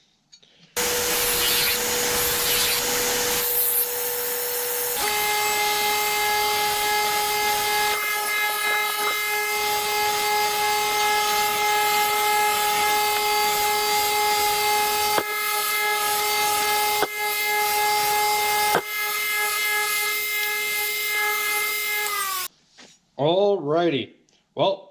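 A blacksmith knife blade being sharpened on a powered grinder or belt, a continuous loud whirring grind with a steady tone that runs for about twenty seconds, then stops abruptly before a short burst of talk.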